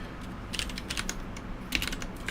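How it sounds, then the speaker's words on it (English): Computer keyboard typing comes through as quick, irregular clicky keystrokes in small bursts, faint and close, over a low steady background hum. "the background noise of the keyboard"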